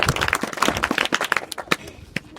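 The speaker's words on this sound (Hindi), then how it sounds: "तो ताली बजा लेते हैं।" An audience at an inter college in Bhatiya gives a quick burst of clapping, many hands striking in a busy, uneven patter that thins out over a couple of seconds.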